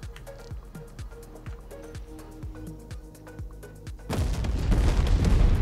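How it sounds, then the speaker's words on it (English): Naval bombardment in Company of Heroes 3 lands as a series of booming shell explosions, each a deep thud repeating about every half second, then building into a dense, loud roar of blasts. "if you do a naval bombardment"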